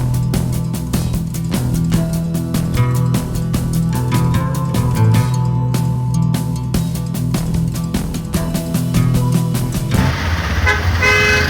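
Holiday traffic jam near Alandi with vehicles honking, a near-continuous blare of horns layered over idling engines, loud and close, shifting toward rumbling motor noise at the end.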